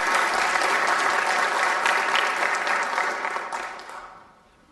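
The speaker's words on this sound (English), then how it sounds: "So let's give all of them a round of applause." Sustained applause from an audience at a city council meeting honoring parents and supporters, a dense steady clapping that holds for several seconds and then fades out toward the end.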